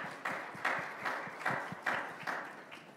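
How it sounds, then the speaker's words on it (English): Audience applause at a student government election debate, heard as rhythmic, fairly close clapping bursts repeating steadily through the short stretch, with no talking over it. "So if we can get a round of applause for her."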